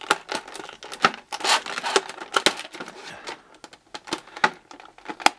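Scissors or a blade work through stiff plastic blister packaging of an action figure, giving irregular close snips, crinkles and crackles with brief quiet gaps between cuts.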